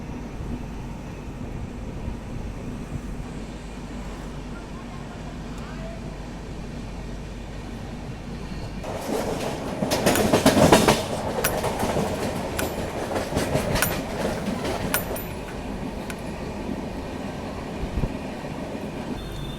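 A goods train passes on an Indian railway line, heard from aboard a passenger train: a steady rumble with rhythmic clickety-clack, swelling into a louder, denser rush of passing wagons midway before settling back into a continuous roll.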